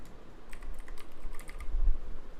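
Keyboard typing at a computer during Excel data entry, soft quick taps blending into a steady low room hum, with no voices.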